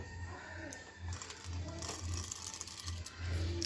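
Fried, shelled peanuts are pounded in a mortar and pestle, giving a quick series of dull, rhythmic knocks and gritty crunches, close and fairly quiet.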